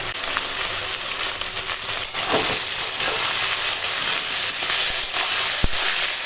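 Prawns cooking together with vegetable curry in a pan give a dense, even sizzle and hiss throughout, with a faint clink or two and no speech.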